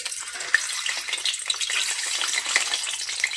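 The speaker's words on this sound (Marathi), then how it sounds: "कांदे तळून घ्यायचे तेलामध्ये थोडे लालसर" Sliced onions frying in hot oil for an egg biryani, a dense close sizzle and crackle with faint stirring, no voices.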